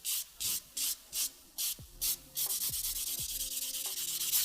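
Buffing a gel nail top coat: short, regular scrubbing strokes, close and distinct, that speed up into a continuous rapid rubbing, with a few soft taps underneath.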